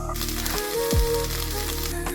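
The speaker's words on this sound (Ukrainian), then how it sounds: "додаємо на неї трошки оливкової олії і починаємо по черзі обсмажувати овочі" Onion fries in olive oil in a heated pan, giving a soft, steady sizzle. Faint kitchen background hum sits under it, with a brief low sliding tone partway through and no speech.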